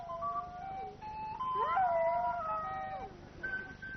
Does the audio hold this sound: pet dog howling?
yes